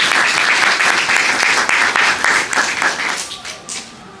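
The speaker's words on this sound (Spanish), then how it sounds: "Por favor, nuevamente un fuerte aplauso al nuevo ganador del premio Cruces." Loud, close applause from an audience at a prize presentation, dense sustained clapping that thins slightly toward the end.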